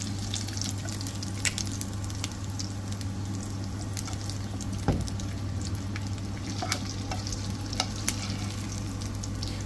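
Chunks of tough, roughly two-year-old rooster meat fry in a pan with a constant dense sizzle, punctuated by occasional sharp spatter pops and a scrape of stirring, close up and without speech.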